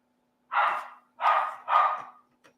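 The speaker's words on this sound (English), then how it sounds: "We have a big old dog here." A big old dog barks three times in quick succession, loud and close, with a small yelp trailing after in an otherwise quiet room.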